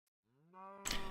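A single cow in Minecraft gives a short, clear moo that rises in pitch, followed by a burst of broad game noise.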